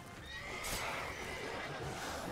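A horse neighs in The Witcher video game, a faint drawn-out whinny over a dense low rumble of game sound and hoof clatter.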